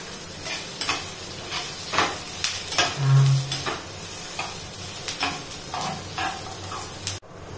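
Garlic and onion frying in a little oil as they are roasted and stirred, a steady sizzle broken by repeated scraping stir strokes at an uneven rhythm, fairly close and prominent, ending abruptly.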